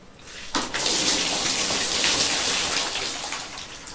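A basin of water dumped over a person during a livestream lands in a sudden loud splash, then keeps pouring and splattering in a steady wash that slowly thins out.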